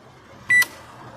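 A microwave oven with a retrofitted replacement keypad gives one short, clear electronic beep as the start key is pressed, over a faint background hum.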